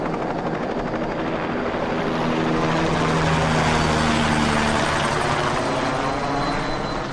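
Rescue helicopter airlifting a patient, a loud, continuous rotor roar with steady thumping blade chop, sustained and close, with no voices.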